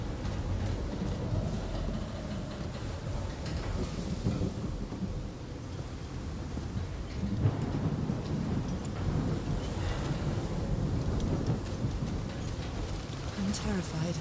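Steady heavy rain with rolling thunder in the video game Call of the Sea, a dense continuous wash with deeper rumbles swelling at times and no speech over it.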